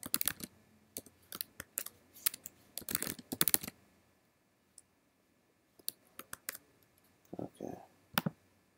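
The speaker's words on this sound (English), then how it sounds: "and we'll just type in" Typing on a computer keyboard while registering a test user in a web application: bursts of quick, close key clicks separated by short pauses.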